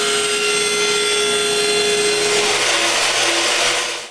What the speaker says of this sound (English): The next morning, Franky passed some birch inside the thickness planner to make some trims to hold the canvas in place